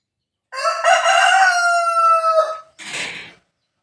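A rooster crows once, loud and close, a long drawn-out call that ends with a short raspy tail.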